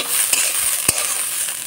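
Banana stem stir-fried in a pan gives a soft steady sizzle, broken by a couple of sharp spatula scrapes and knocks against the pan. No voices.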